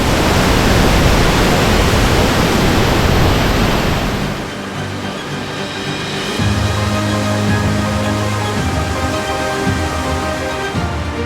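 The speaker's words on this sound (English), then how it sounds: "The narrow slot leads to a small cove at the base of the waterfall." Steady roar of a waterfall pouring into a small cove at the base of a narrow slot canyon in Iceland, loud and continuous, easing to a softer wash of rushing water partway through.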